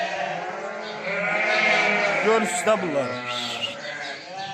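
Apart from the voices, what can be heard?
lambs bleating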